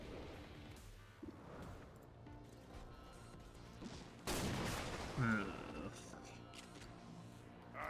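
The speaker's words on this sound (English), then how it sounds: "Someone's shooting at us." Gunfire in the video game XCOM 2 bursts out in a few sharp cracks, with a loud blast near the middle followed by a second impact, over low rumbling background and faint in-game voices.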